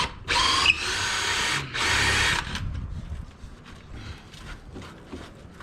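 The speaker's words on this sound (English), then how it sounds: "I'm liking this auger." Power drill with an auger bit boring through wood wall framing, two loud sustained bursts of drilling close by, each lasting over a second, followed by quieter rustling handling noise.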